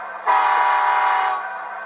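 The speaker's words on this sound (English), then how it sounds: "Function 2 is the horn." A model-railroad sound decoder in an Athearn SD70ACe diesel locomotive sounds its horn: one sustained, loud multi-tone blast that starts abruptly and holds steady, easing slightly near the end.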